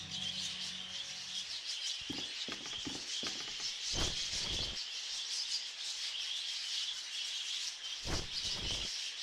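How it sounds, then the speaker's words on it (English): Birds chirping and chiming in an enclosed bird room in the game The Last Door, thin high twittering over a constant airy hiss, with a few soft scraping rubs breaking in. "we are going back into the bird room to hear them chirp and chime"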